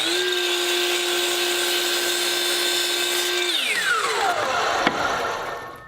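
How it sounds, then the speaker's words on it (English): Power saw cutting the angled end of a wooden board for a farmhouse bench: a steady high whine under load for a few seconds, then the motor spins down with a falling pitch and a small clack near the end. "We need to cut the other side on the opposite end"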